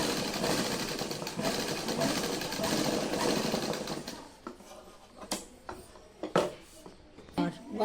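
A sewing machine stitches a shirt collar in a Delhi boutique, a dense continuous mechanical whirr for about four seconds that then stops, leaving a few sparse clicks and handling knocks, with a voice talking over it.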